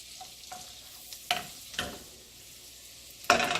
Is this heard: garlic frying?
yes